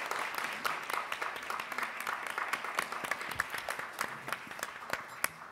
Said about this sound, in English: so you can give them another round of applause